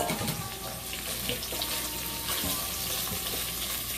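Onions cooking in a pot for corned beef, cabbage and kielbasa are stirred, a steady loud sizzle and hiss filling the short stretch with faint scraping and no speech.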